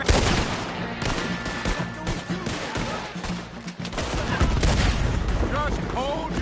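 Heavy gunfire in a Red Dead Redemption 2 shootout, a dense fusillade of rifle and pistol shots cracking continuously and loudly, with shouting voices mixed in throughout.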